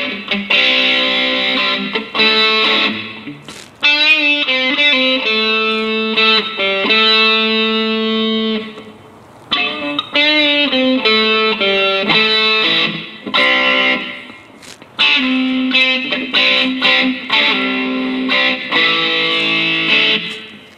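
Distorted electric guitar playing chords and riffs through a Mooer Prime P1 multi-effects unit, loud and continuous with brief pauses between phrases.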